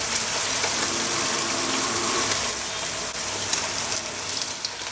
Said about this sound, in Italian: non essendoci l'olio, io aggiungo il mio pollo